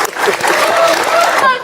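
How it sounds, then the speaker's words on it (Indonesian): Audience applause in a comedy talk setting, a brief, loud and dense burst of clapping with crowd voices mixed in, lasting under two seconds. "Tapi tepuk tangan lu dong buat dua pejabat kita saat ini."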